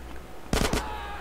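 Gunfire in GTA San Andreas, a quick cluster of two or three sharp shots over steady game background noise.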